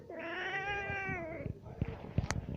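A female cat in heat yowls in one long, loud, wavering cry close by, followed by a few softer shuffling knocks and a brief sharp click.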